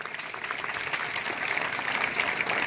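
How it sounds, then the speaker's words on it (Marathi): Crowd applause for Praveen sir at a Marathi lecture event, a steady dense wash of clapping sustained throughout without pause. "जोरदार टाळ्या वाजवा रे त्या प्रवीण सरासाठी"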